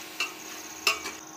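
Masala being sautéed on low heat in a pan for soybean biryani, with two short spoon scrapes standing out over a faint, steady sizzle.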